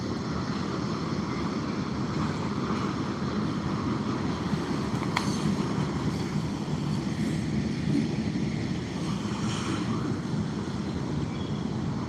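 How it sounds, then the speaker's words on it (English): A big train passes near a fishing bank as a steady, continuous rumble and hiss that holds at even loudness throughout, with no talk over it. "There goes the train, though."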